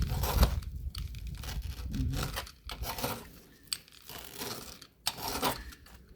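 Hosta plant leaves and stems being cut into small pieces, with close, irregular snipping, tearing and rustling sounds in uneven bursts separated by brief pauses.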